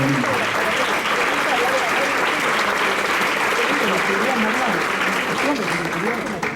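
Audience applause at a Buenos Aires book fair presentation in 2013, a steady dense wash of many hands clapping throughout, loud and close, with voices faintly mixed in beneath.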